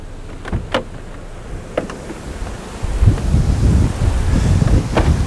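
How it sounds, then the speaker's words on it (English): Wind gusting outdoors at a farm paddock where a hay bale is being moved, a steady low roar of buffeting that strengthens partway through and stays loud, with a few faint knocks early on and no talk. "Yeah, that's windy."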